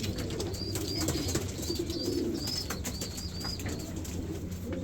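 Racing pigeons coo softly and repeatedly at close range, low rolling calls over a faint background hum with a few higher chirps.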